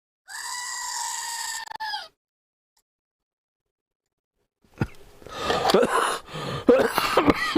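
A single goat lets out a loud, strained bleat lasting under two seconds, followed by silence and then rustling, coughing and handling noise close to the microphone.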